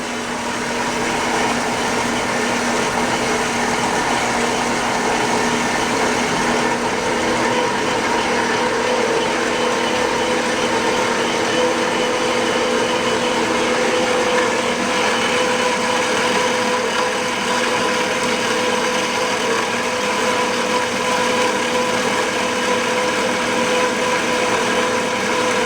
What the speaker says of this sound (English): Let me get that on the bandsaw and we'll start doing some chopping.